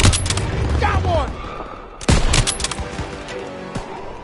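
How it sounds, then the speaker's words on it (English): Gunfire in the Call of Duty WWII video game: loud bursts of rifle and machine-gun fire with booms and a sharp blast midway, heard in a chaotic street battle, with shouted voices mixed in. "They're taking fire from behind!"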